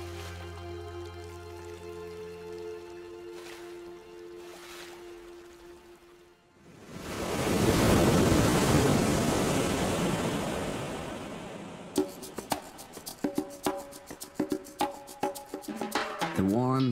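Roaring Atlantic Ocean surf rises from quiet into a loud, sustained wash of crashing waves that slowly fades, set between stretches of music and narration.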